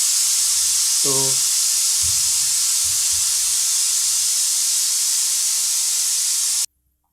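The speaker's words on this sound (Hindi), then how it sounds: "कुकर का सीटी लग रहा है।" A pressure cooker whistle lets out a loud, steady hissing blast of steam that cuts off abruptly, with a brief low voice murmuring underneath.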